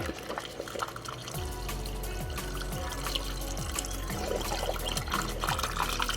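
Coolant drained from a Mazda MX5 is tipped back into a container, giving a continuous close trickle and gurgle of liquid that builds slightly toward the end.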